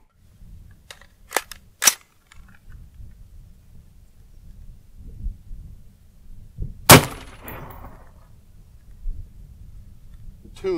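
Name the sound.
AR-15 rifle firing Barnes 5.56 69gr OTM into gelatin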